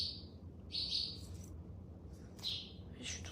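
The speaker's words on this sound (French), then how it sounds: "y a un oiseau qui est coincé dans ma chambre." A small bird trapped inside a hotel room gives several short, high chirps in separate bursts over a low steady room hum, fairly close and moderately loud.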